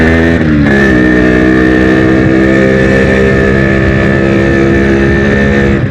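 A Yamaha RX135 motorcycle engine, loud and close, climbs sharply in pitch as the throttle opens, then holds a steady high drone with no talk.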